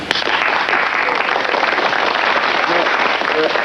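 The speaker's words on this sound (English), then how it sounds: "The people in the front row will start clapping and stop as my hand goes across like that." Audience clapping in a guided sweep, row after row joining and stopping as a hand passes, a steady wash of applause with faint voices underneath.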